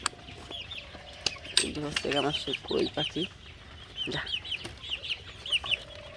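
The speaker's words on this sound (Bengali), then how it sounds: "এখানে দেশি মুরগি, এখন ফার্মি মুরগি আছে" Desi and farm chickens in a backyard cage cluck and squawk in short, close bursts while feeding, with a few metallic knocks and a brief spoken word in between.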